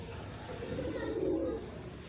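A pigeon coos softly close by during a pigeon sale in Faisalabad, a low, rounded call that swells briefly over steady background noise while someone speaks nearby.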